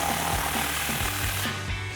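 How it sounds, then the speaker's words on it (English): A 16mm socket tightening an exhaust clamp on a 2004-2008 Ford F-150 dual exhaust install, giving a loud, rapid rattling impact-tool hammering close up, continuous for about two seconds. "take a 16mm socket and tighten that down"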